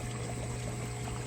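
Water pumped at roughly 1,000 gallons an hour pours and splashes through a garden pond biofall filter full of plastic media, a continuous close rushing and trickling with no breaks.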